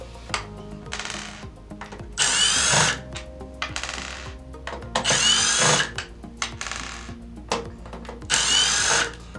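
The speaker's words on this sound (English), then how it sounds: "let's go ahead and remove the 8 screws that are attached." A power drill backs screws out of a Zodiac MX8 suction pool cleaner in several short whirring bursts, each a couple of seconds long, with clicks and small rattles between them, close by.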